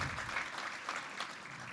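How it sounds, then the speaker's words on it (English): Steady applause from a crowd at a business chamber event, a continuous wash of clapping at moderate level with no voices over it. "Okay, can we give Todd another round of applause?"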